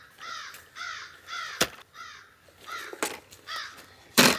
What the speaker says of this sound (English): listening to these crows here.